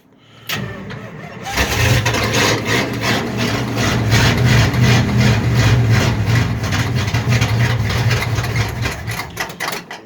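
A Dodge wagon engine cranks and catches, then runs loud and steady with a rough, pulsing idle for several seconds before faltering toward the end as it runs out of fuel.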